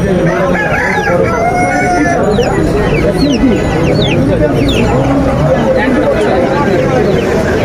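Asil and fancy chickens cluck and roosters crow loudly, with overlapping calls all around at a busy Kaptan Bazar poultry market, while several people talk and haggle under the birds.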